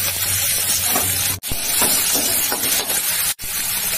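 Chopped tomato, green chili and garlic hit hot oil and give a loud, continuous hissing sizzle that fills the whole stretch, with a couple of brief breaks.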